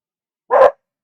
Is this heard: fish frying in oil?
no